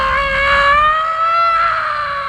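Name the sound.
scream in the movie Star Trek Insurrection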